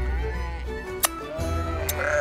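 A sheep bleats in short wavering calls, fairly close, against a light background with a brief sharp click midway and no clear speech.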